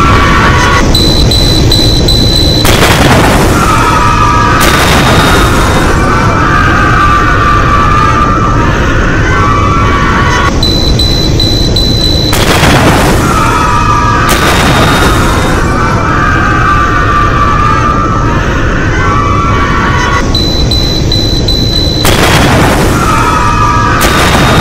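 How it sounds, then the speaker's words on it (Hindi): Repeated heavy booms and blasts of a car bomb explosion near the Red Fort, loud and dense, recurring several times across a noisy, roaring background with no clear talk. "जोरदार धमाका होता है।"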